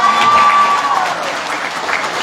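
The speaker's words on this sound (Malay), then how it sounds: "Tepuk tangan." Dense applause from a large audience at a political party's manifesto launch in Malaysia, a steady loud wash of clapping that fades slightly toward the end.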